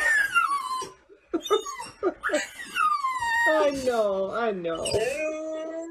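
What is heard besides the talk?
dog howling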